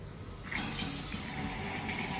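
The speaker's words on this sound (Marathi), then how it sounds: "पाणी चालू करणार आहोत। पाणी चालू केलं" Tap water rushes through a temporary hose connection, a steady hissing flow that grows a little louder partway through and runs without any talk.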